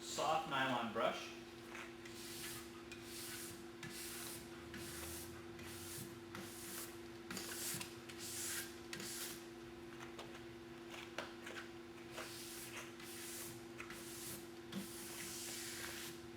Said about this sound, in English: Soft nylon brush.